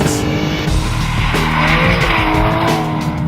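An Aston Martin DBS Volante or Mercedes SLS AMG Roadster engine revs loudly while tires squeal and skid through a drift on a slippery surface, continuous and close throughout.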